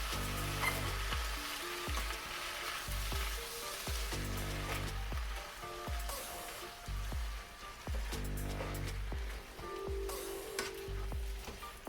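Taco seasoning being stirred into a meat mixture, giving repeated scraping and squelching strokes roughly every second over a steady background sizzle, close and fairly loud with no talking.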